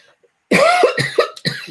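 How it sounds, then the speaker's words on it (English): A close, loud burst of harsh coughing, three or four rough hacks in quick succession after a moment of silence. "She coughs all the time"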